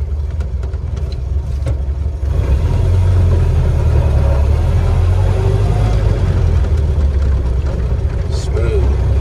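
A 1931 Ford Model A engine runs steadily nearby in cold weather, a low continuous rumble that rises slightly as the car is shifted into first gear after stopping, with someone talking over it.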